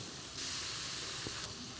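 Bata fish fry in mustard oil in a hot wok, giving a steady, fairly quiet broadband hiss that swells briefly and holds throughout, with no voices.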